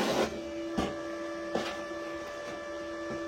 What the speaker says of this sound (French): le poste à souder, eh bien, il est en marche, il est prêt à fonctionner